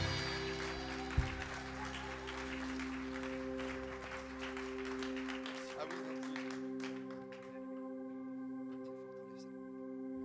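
An audience applauds to welcome a pastor at a French church gathering: steady, sustained clapping with a sharp bang near the start, thinning out after about six seconds over a lingering hum.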